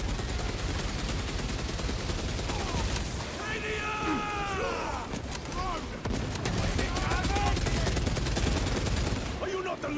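A heavy bolter fires in Warhammer 40K Space Marine 2, a dense, loud stream of rapid booming shots amid battle noise, with brief voice-like calls and other combat sounds mixed in.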